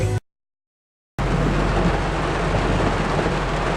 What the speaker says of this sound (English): it is now pouring rain